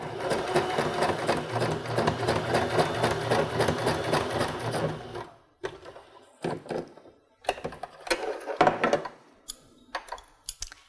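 A sewing machine stitching fabric pieces along the edge, running in a fast, steady mechanical rattle for several seconds before stopping, then starting and stopping in short bursts with clicks and handling noises.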